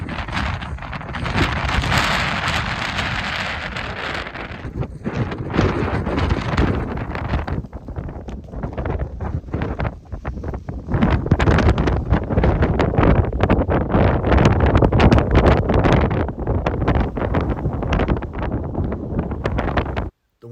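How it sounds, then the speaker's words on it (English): Strong desert windstorm in Big Bend, West Texas: loud, continuous roaring gusts buffet the microphone for the whole stretch, with a broad rushing surge that rises and stays heavy in the second half, without speech. "As you can tell, it's extremely windy."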